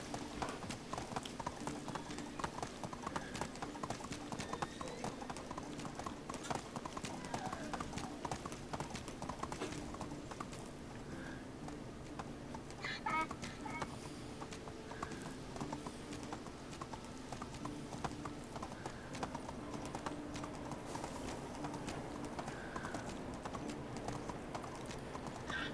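Steady, rhythmic clip-clop of donkey hooves while riding in a video game, continuous and fairly close over a dense, busy background with faint keyboard-like tapping.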